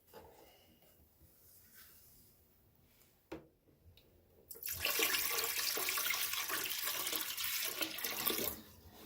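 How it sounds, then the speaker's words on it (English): Dirty water from cleaning a rug is poured into a toilet, a sudden loud, steady splashing gush that starts partway through after quieter handling sounds and stops near the end. "And I am about to pour it in my toilet."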